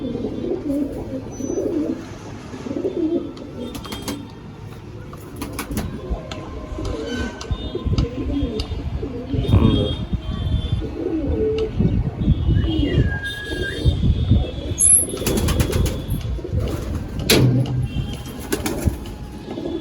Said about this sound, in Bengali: হ্যাঁ, ওই পায়রাটার কথা বলছিলাম।